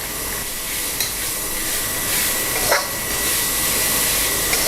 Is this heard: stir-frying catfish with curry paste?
yes